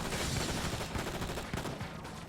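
Rapid MP5 submachine-gun bursts in the Enter The Matrix video game, a dense, continuous rattle of fire filling the whole short stretch at close range.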